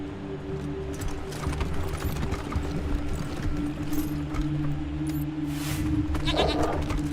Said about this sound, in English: There's the mountain. It's a mountain goat.